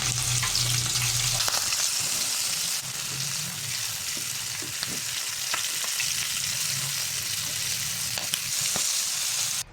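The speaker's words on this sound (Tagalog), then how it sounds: "Atin nang iprito. Ayan, coat muna natin dito sa harina." Flour-coated chicken feet frying in oil, a dense, steady close sizzle with occasional crackles and light scraping stirs throughout.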